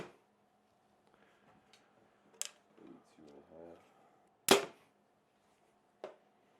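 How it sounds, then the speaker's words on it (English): A sharp, loud snap of a bow fitted with an arrow rest being shot cuts through a quiet room, measuring about 83 decibels, preceded by soft clicks and faint rustling. "decibel test this bow with the rest on it so we know how loud it is"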